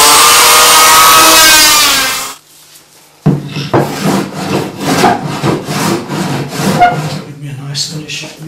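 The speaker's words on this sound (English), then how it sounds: "Nice finish the scraping down." A hand scraper rasps across an oak tabletop in repeated rhythmic strokes after a brief loud grinding burst and a short pause, close and fairly loud.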